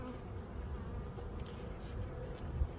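Honey bees buzz steadily around hive frames during a spring inspection, a dense continuous drone close by with no talking.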